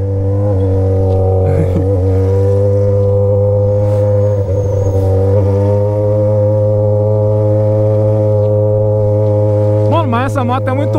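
A Yamaha XJ6 motorcycle idles steadily with a loud, deep exhaust rumble, close and continuous throughout, with a brief blip of the throttle near the end.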